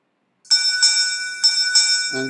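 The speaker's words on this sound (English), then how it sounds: "this is the sound of the ship bell that is played" After a brief silence, a clear metallic ship's bell chimes in a quick double strike, repeated twice, ringing bright and close with a short sustain.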